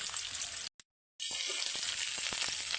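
Panch phoron whole spices crackle and sizzle in hot oil with a dense, steady frying hiss that drops out briefly, then returns just as strong.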